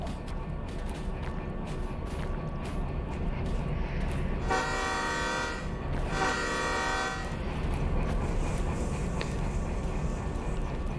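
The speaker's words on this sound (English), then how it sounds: "there's no point in honking the horn for this specific crossing" A train horn sounds at a level crossing in the VR railway simulator Derail Valley: two sustained blasts, the first longer, loud over a steady rumble of the moving locomotive and wheels.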